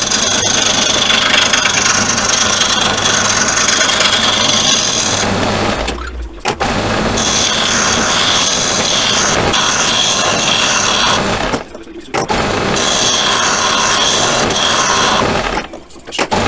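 Bigger wooden dowels are turned down to about 19.5 mm on a lathe, giving a loud, continuous whirring cut in three long passes separated by brief pauses, with no voices.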